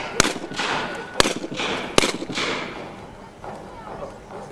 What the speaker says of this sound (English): Short-range carronades are fired into the hulls of the ships, causing havoc below decks.